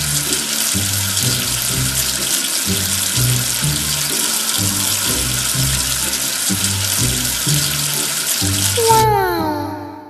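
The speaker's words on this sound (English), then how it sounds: "Wash away the soap with water." Water runs in a steady, loud stream to rinse soap off a letter, with rhythmic low thumps of bouncy music underneath, and a rising swoosh effect near the end.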